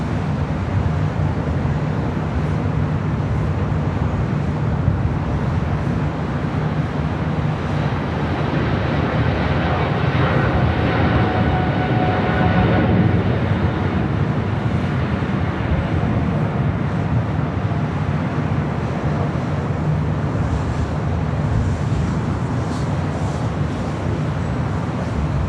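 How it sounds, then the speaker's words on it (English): A Singapore Airlines Boeing 777-300ER in Star Alliance livery rolls down runway 25 right at LAX on its takeoff run, giving a steady, loud, broadband jet engine roar that swells slightly toward the middle and holds without pause. "Singapore 777-300ER in the Star Alliance livery, Flight 11, heading back to Tokyo Narita, now rolling down 25 right"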